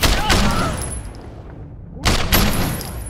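Gunfire crackles in the Sleeping Dogs police DLC, with dense bursts of shots and loud pops over steady driving noise, easing off midway before a fresh volley returns.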